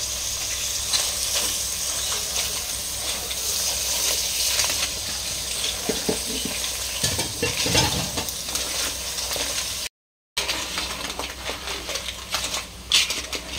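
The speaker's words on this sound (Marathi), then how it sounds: "असं मस्त प्रॉपर मिक्स करून घ्यायचं छान, पूर्ण मसाला खालून वरून" Crab curry masala with crab claws being mixed in a pan, scraped and turned from bottom to top, giving steady close sizzling with scraping strokes and a short break near the end.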